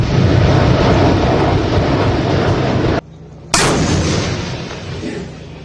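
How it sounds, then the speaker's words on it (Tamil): Artillery and tank fire at an army training exercise in Nashik: a loud, dense roar of blasts and rumble fills most of the stretch, breaks off briefly, then resumes with a sharp crack and a fading rumble. "பீரங்கிகள், டாங்கிகள் மூலம் போர் பயிற்சியில் ஈடுபட்ட ராணுவ வீரர்கள்"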